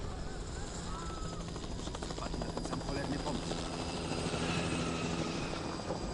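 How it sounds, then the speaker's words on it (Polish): A helicopter in The Last of Us thrums with a steady rotor chop and engine drone, continuous and moderately distant, holding fairly even throughout. "Helikopter!"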